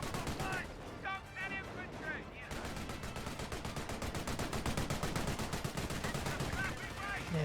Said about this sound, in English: Plus the mortar pit's shelling the enemy.